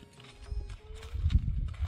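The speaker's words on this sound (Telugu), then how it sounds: "ఇగో మనవడే గుర్రం" A horse clip-clops along in a village setting, soft hoofbeats under low background rumble, fairly faint and brief.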